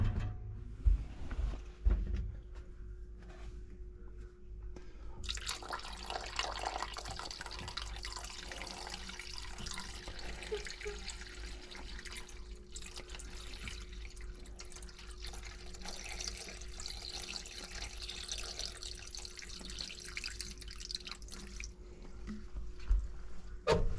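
Water drains steadily from a system tied to a faulty water sensor, a soft continuous trickle and hiss that starts a few seconds in and runs on quietly, with a low hum beneath and a few faint knocks.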